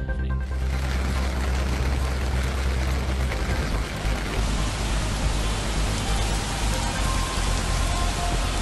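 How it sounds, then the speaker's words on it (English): Heavy rain pours down with force over the New York metropolitan area, a dense, steady roar of downpour filling the whole clip with no voices. "Rain engulfed the New York metropolitan area with astounding force on Friday."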